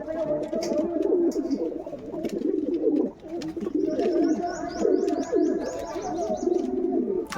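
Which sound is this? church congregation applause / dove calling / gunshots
dove calling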